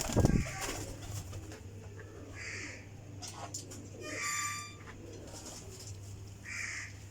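Sialkoti teddy golden flying pigeons coo in a low, steady drone, with a few brief higher bird chirps scattered over it and a sharp knock at the very start.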